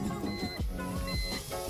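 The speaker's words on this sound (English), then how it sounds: "you'll use the switch to go ahead and roll the window up or the window regulator up" Power window regulator motor in a BMW 325 E46 driver's door whirring in short bursts as the switch is pressed, loud and close, with uneven pitch changes.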